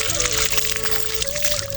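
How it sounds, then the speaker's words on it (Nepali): Cold water runs continuously from a tap near a Shiva temple in Krishnapur, near Dhangadhi, a soft, steady splashing trickle heard at low level. "24 घन्टा पानी आउँछ यहाँबाट चाहिँ।"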